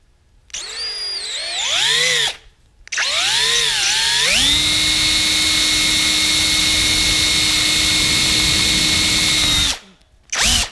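A power drill with a 7/32 bit whines loudly, revving up and down in pitch before holding a steady high whir for several seconds, then stopping and briefly starting again.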